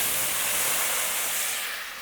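Beef stock poured into a hot pot for mushroom onion Swiss burger soup sets off a loud, steady rush of steam hiss that tapers slightly at the end, with no talking.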